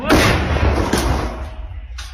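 A single heavy artillery blast from a captured Russian Giatsint self-propelled howitzer booms close by near Bakhmut, followed by a rumbling, fading echo.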